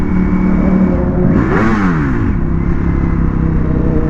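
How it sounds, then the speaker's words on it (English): A Ducati Panigale V4S superbike with a loud aftermarket exhaust drones steadily while riding through London city streets, then a sharp rev rises and falls before the engine settles back into a constant close roar. "so you need a loud exhaust."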